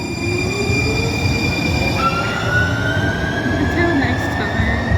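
An Amtrak train rolls past a station in Portland loudly with a heavy rumble, while metal wheels squeal in long, rising and falling high-pitched tones over the noise.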